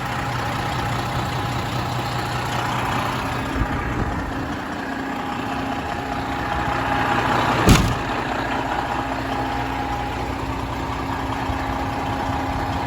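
A 2016 Freightliner Columbia glider truck idles with moderate blow-by, giving a steady, continuous diesel rumble at close range, with one brief sharp knock or click partway through and no talking.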